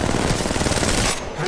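Rapid automatic gunfire hitting the player in the mobile video game Apex Legends Mobile, a quick rattling burst of shots, loud and close, cutting off after about a second with voices over it.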